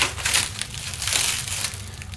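Shrink wrap being cut on a packed heavy item, a continuous close crinkling and crackling of stretched plastic film that swells and eases over a couple of seconds.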